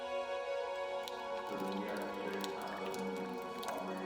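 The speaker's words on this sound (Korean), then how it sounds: "천장에서 떨어지는 이 물방울 보이시나요?" Water dripping from the ceiling of Sanbanggul cave, a Buddhist temple grotto on Sanbangsan, Jeju; soft, sparse drips plink in a quiet, reverberant space.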